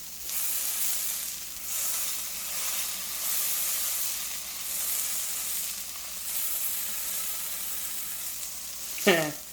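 Duck breast fries in a pan with a steady hiss and crackle, softer and louder in waves, and a short clatter near the end.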